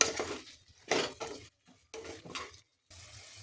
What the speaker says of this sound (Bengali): পরিমাণ মতো চিলি সস, টমেটো সস, ভালো করে নেড়ে নেবো